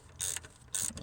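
A ratchet snugs the connector on the starter motor of a 2005 Toyota Camry 4-cylinder, two short quick bursts of clicking close up and fairly quiet, separated by a brief pause.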